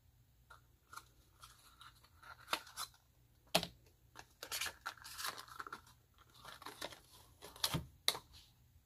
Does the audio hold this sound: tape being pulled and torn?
yes